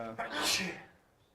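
A single sneeze rises and fades over about a second in a city council meeting room, moderately faint and alone.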